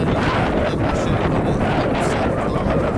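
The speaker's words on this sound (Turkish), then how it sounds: "Rüzgar eksik olmaz diyorsunuz." Strong wind buffets the microphone in a walnut orchard in Niğde, Türkiye, a loud, continuous roar that fills the whole stretch with no clear talk.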